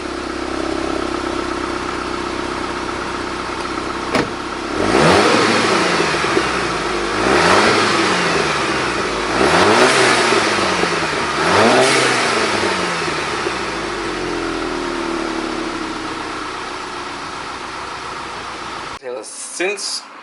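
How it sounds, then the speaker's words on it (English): A VW MK6 with its stock exhaust idles with a steady rumble, then is revved four times in a row, each rise and fall clear and close, before settling back to idle. "But first, some full exhaust clips in the stock format,"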